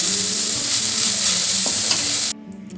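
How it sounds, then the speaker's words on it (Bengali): Sweet potato leaves stir-fry with coconut in a hot pan, a loud continuous sizzle with scraping stirs that cuts off abruptly near the end. "দেখো বন্ধুরা, আমার শাক ভাজা হয়ে গেছে, নারকেল দিয়ে আলুর শাক।"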